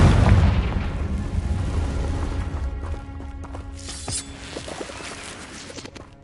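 A Confringo fire spell bursts in the Hogwarts Legacy video game, opening with a loud booming explosion that then fades into crackling debris, rumbling and scattered small pops.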